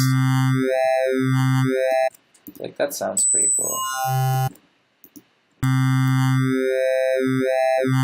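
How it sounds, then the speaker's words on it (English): A bright, buzzy wavetable synth tone made in Serum sweeps up and down, then drops out while someone talks briefly, and returns for another pass. "I usually start out making a sound with a wavetable."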